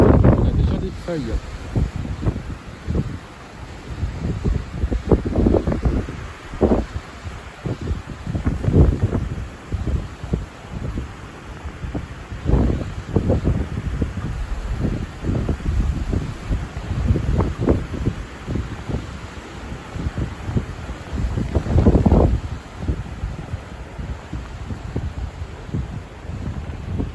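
Strong spring wind gusts above 80 km/h sweep through trees in full leaf, roaring and buffeting the microphone in repeated loud surges over a continuous rushing background.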